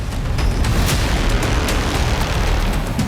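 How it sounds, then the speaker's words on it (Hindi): A loud, continuous roar of a missile explosion, deep rumbling mixed with crackling bursts of fire sparks, filling the whole moment without any pause. "भीषण विस्फोट से आग की चिंगारी भड़क उठी।"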